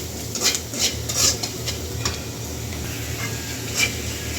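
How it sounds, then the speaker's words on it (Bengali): Onion and garlic fry in a pan with salt and turmeric for a dal, a low steady sizzle broken by a few quick metallic clinks of a stirring spoon. "এবার এটা ভালো করে লাল লাল করে একটু ভেজে নিতে হবে"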